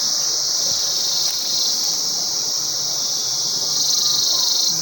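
Cicadas in Swat drone in a loud, continuous high-pitched buzz that holds steady throughout, with faint outdoor rustling beneath.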